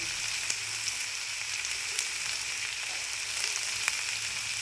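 Vegetables including ridge gourd fry in a pan with salt and turmeric, giving a steady, close, bright sizzle with a few small pops, uninterrupted and without voices.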